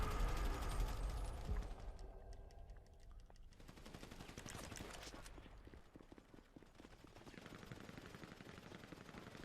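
Automatic and single-shot gunfire crackles through a team deathmatch in GTA Online, with rapid bursts and scattered shots that stay fairly quiet and distant throughout.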